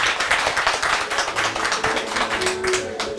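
Audience applause at a Guinean diaspora community gathering in America: steady, dense clapping from many hands sustained for about three seconds, with no voices over it.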